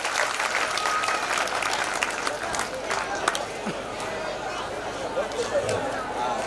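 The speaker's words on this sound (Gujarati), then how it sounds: "ખૂબ ખૂબ તાળીઓથી ધન્યવાદ આપીએ" An audience at a family celebration honoring a Rajkot builder and an oil mill breaks into loud, sustained applause, with crowd chatter and murmuring mixed through the clapping.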